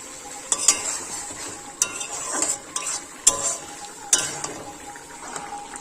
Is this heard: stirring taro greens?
yes